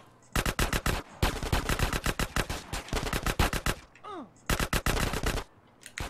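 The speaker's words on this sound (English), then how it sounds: "Shoot at people, not the wall." Rapid bursts of automatic gunfire in the video game GTA San Andreas, loud sharp volleys repeating in clusters with a brief pause in the middle, no speech over them.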